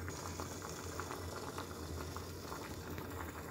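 Green tea leaves simmer in a pot of water, giving a steady, close rolling boil with dense bubbling and popping that holds at an even level throughout.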